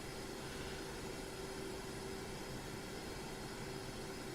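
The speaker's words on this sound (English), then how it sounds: "we're taxiing a little bit faster than Charlie." An F/A-18C jet in the DCS flight simulator taxis, giving a steady, even engine whine and hum with a constant tonal drone, uninterrupted and without speech.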